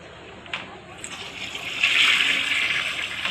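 A household toilet flushes, faint trickling at first, then a louder rush of water swells midway and keeps gushing to the end.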